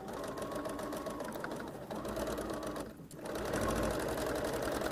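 Sewing machine running continuously while stitching a seam, a dense fast mechanical whir and needle chatter, close and steady, with a brief dip in speed before resuming slightly louder.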